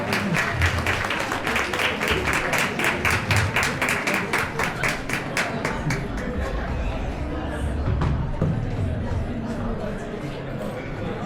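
Loud clapping from an Ugadi celebration audience greets the first prize winner, with dense, steady applause for several seconds that thins out while crowd chatter carries on underneath.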